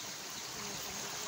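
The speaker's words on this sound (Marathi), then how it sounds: "बघा तिकडे एक ओढा आहे" A small stream flowing near farm fields, a steady broadband rush of water heard alone at moderate distance with no pauses.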